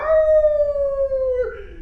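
A man imitates a wolf with a single long howl, a sustained steady tone that slowly drops in pitch before breaking off, close and loud against quiet surroundings.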